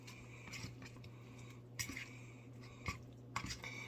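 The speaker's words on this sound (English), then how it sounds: "Now you just stir it up, as per the instructions." A utensil stirs a microwaved Mexican street corn meal in its tray, giving faint scraping taps with a few sharper clinks against the container over a low background hum.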